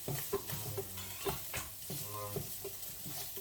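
Carrot pieces stir-fried in a pan for fried rice, a steady sizzle broken by repeated scraping and clacking strokes of a spatula, close and moderately loud, with no talk.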